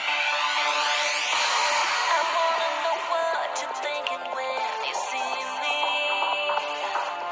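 A Samsung phone speaker plays its hardware test tone, a continuous electronic melody of layered sweeping and stepping tones, steady and fairly loud throughout with no talking.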